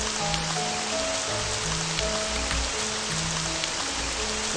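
Steady rain falls in the video game The Dawning Clocks of Time, a constant hiss of drops hitting surfaces with soft tonal background music underneath.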